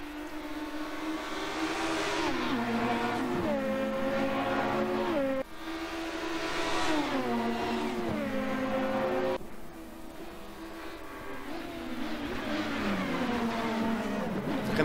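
Touring race cars roar around a track, with engines climbing through the gears, dropping sharply under braking and revving back up in repeated sweeps. The sound is loud and continuous, and a commentator speaks faintly underneath.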